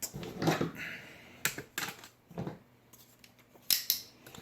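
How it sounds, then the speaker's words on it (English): Tape is pulled and torn while being wrapped around a broken goalie stick, giving several close, rasping bursts in an irregular rhythm, each a short ripping crackle, with no talk. "I'm gonna tape this part because it did say to tape where the part will come out"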